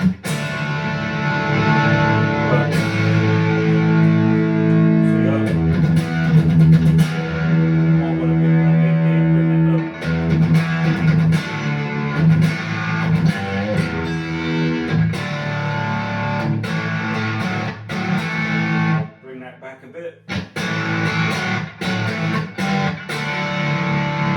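Electric guitar played through an amp with reverb, strummed chords and picked notes ringing out, loud and close, with a brief pause near the end.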